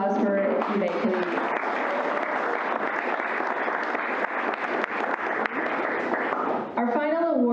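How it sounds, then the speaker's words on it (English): Steady applause from an audience at an awards ceremony for a recipient, a dense, even wash of clapping lasting several seconds before a voice speaks near the end. "One more round of applause for Eve"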